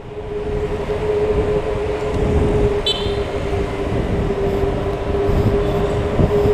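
A train roars loudly through a tunnel in a heavy, steady rumble with a sustained metallic tone, filling the space without a break and with no talking.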